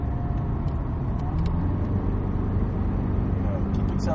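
A Cadillac CTS-V Coupe engine pulls hard under acceleration on the Circuit of the Americas race track, a steady loud drone from inside the car while an instructor talks.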